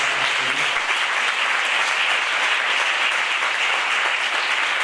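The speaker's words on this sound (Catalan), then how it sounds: "Vull demanar un fort aplaudiment" A conference audience at a teachers' school gives loud, sustained applause for the company's sound technicians, a dense, even wash of clapping that holds steady throughout.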